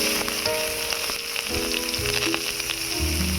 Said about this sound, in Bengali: ফোড়নটা ভাজা হয়ে গিয়েছে, এবারে দিয়ে দেবো পেঁয়াজ,